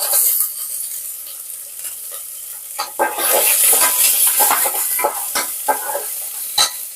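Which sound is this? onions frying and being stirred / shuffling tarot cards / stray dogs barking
onions frying and being stirred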